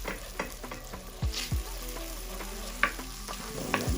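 A spoon stirring garlic paste sauce for lemon pepper wings in a bowl, with soft wet scraping and clinking strokes against a steady sizzle in the background, no voices.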